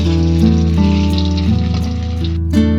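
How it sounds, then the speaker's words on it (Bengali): Live fish, rohu, sizzles in hot oil with a constant crackling fry, close by, under a steady humming tone in the background. "মা এখানে ভাজছে মাছ"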